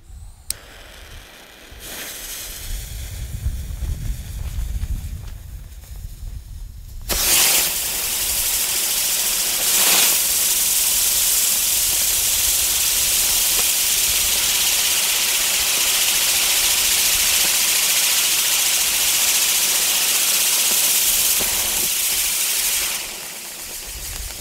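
A Weco Magic Circle firework sun spins with a loud, steady hiss that bursts on abruptly, holds for about fifteen seconds, then stops, with a quieter mechanical rumble before ignition.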